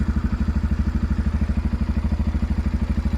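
A 2024 Tekken motorcycle idling at about 1500 to 1700 rpm, a steady close engine throb with rapid even pulses and no voices.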